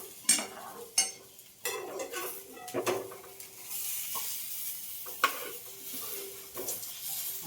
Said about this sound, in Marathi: इकडे छान मच्छी पण आपली फ्राय झालेली आहे खालून मस्त फ्राय झाली